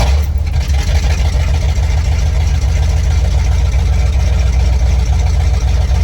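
Carbureted car engine fitted with a Holley 4-barrel carburetor idles steadily after tuning, a loud, close, even rumble with a slight lope and no speech.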